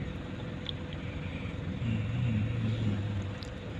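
Rush hour road traffic in Dubai gives a low, steady rumble of car engines from inside or near a vehicle. A nearby engine hum swells briefly midway, and there is no talking.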